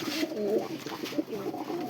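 Pigeons fighting, a pair including a red hen, giving repeated soft throaty coos and rustling bursts close by over about two seconds, with no one talking.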